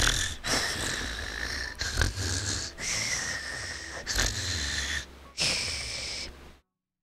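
A person imitates snoring close to the microphone, giving about five long, raspy, breathy snores in slow rhythm with brief pauses between them.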